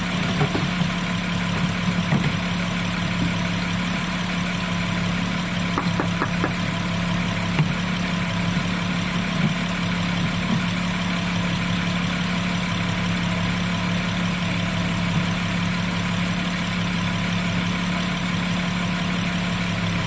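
An Audi Q7 engine idling steadily after a fault of stalling when cold, a constant close low hum and drone with faint ticking, unchanged for the whole stretch.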